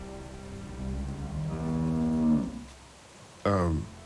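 A cow in The Walking Dead video game lets out a long, drawn-out moo, then a second shorter low call after a brief pause, clear and close.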